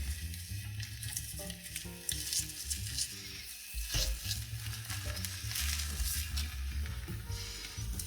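An omelette sizzles steadily in a hot frying pan, a close, even crackle of frying egg with small spatters and soft scraping, no voices over it.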